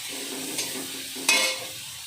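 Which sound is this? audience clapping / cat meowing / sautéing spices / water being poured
sautéing spices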